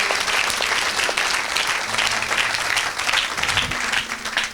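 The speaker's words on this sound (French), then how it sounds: "Oh, acclamez pour Jésus-Christ." Sustained applause and cheering from a church congregation acclaiming Jesus Christ at an evangelistic gathering, a dense steady roar of clapping that fills the whole moment.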